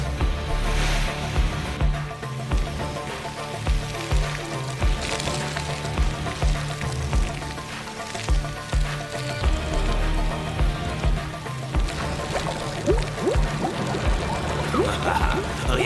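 Water rushing continuously as a pump fills a bath, a steady splashing pour at high volume with rhythmic pulsing and small droplet sounds throughout.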